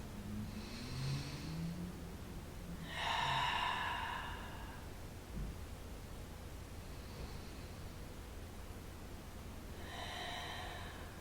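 Slow, deep breaths during a lower-back stretch are heard as soft airy inhales and exhales spaced a few seconds apart, close and quiet over a faint steady hiss, with no talking.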